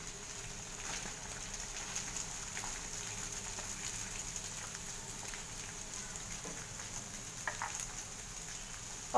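Chopped onion frying in a pan gives a steady, moderately quiet sizzle with a fine crackle throughout, close up, with a faint occasional clink and no talking.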